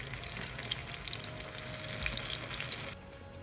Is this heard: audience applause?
no